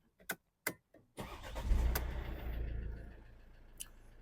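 A few sharp clicks, then a Mercedes car engine cranks and catches, rising to a rumble before settling into a steady idle nearby.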